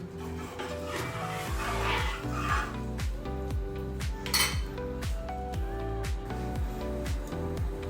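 A spoon stirs salt into khichdi in a metal pot, making repeated rhythmic scrapes and clinks against the pot, fairly close, with steady background music underneath.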